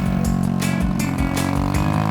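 A motorcycle engine droning close by with a throbbing, uneven rumble, like a bike being ridden along a road in Cibeber, Cianjur, Indonesia.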